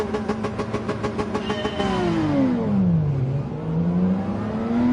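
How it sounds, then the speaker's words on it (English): Porsche 911 engine in Gran Turismo 7 revving hard through low gears: rapid rhythmic pulses, then a rising then falling whine as it shifts and climbs again, loud and close with no talk. "High revving Porsche 911."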